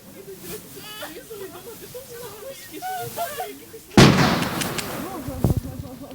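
A sudden loud blast bursts out after a few seconds of voices during a military training exercise around a building, followed by rumbling and a second sharp bang, fairly close.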